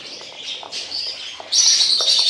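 Thirty-day-old young birds chirp continuously in high, shrill peeps close by, the chorus growing suddenly louder and denser partway through.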